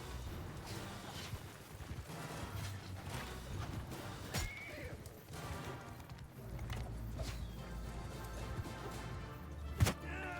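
Horses of horse archers in a video game neigh and whinny amid steady hoof clip-clop and battle clatter, with a sharp thunk near the end.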